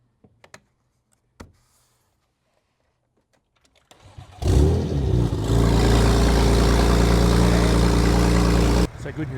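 BMW M3 F80 track car engine started with a jump starter: a few clicks, then a cranking whine, and the engine catches loud and close, settling into a steady idle before dropping off.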